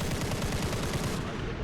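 Rapid machine gun fire from the rear gunner of a TBF torpedo bomber in War Thunder, a steady, dense rattle of shots at moderate level that runs unbroken before trailing off.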